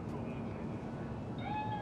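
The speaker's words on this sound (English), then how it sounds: "Chill, just a cat." A cat meows in the video game Cyberpunk 2077, a short rising cry that stands out briefly over a low ambient game background near the end.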